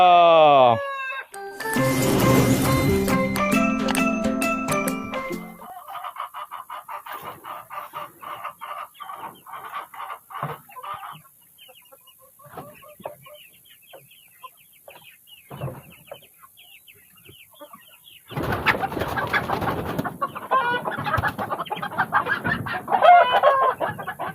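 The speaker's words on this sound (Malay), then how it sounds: "Ni ayam kampung. Ah ayam kampung pula. Ni ayam hutan." Village chickens and a junglefowl in a rural garden cluck and crow: loud close crowing opens, then scattered clucking and quieter calls, with another burst of loud crowing and clucking near the end.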